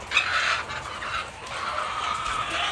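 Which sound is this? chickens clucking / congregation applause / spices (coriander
chickens clucking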